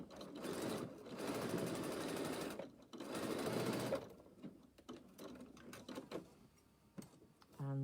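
A sewing machine stitches across a fabric seam, running in two loud continuous bursts with a brief pause between, then quieter mechanical handling sounds and a short final whir.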